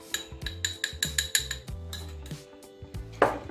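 A metal spoon clinks against a container while cocoa powder goes into milk for a chocolate milkshake, a quick run of bright, close taps and rattles ending in a louder clatter.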